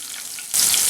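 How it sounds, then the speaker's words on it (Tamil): Curry leaves sizzle and spit in hot oil in a pan, a steady close frying hiss that jumps sharply louder halfway through as more hit the fat. "அதோடு வந்து கருவேப்பிலை சேர்த்துக்கிறேன். இப்போ வதக்கி வச்சிடலாம்."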